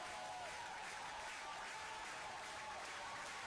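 Round of applause from a crowd, a faint, distant-sounding wash of clapping that holds evenly throughout with no voices over it.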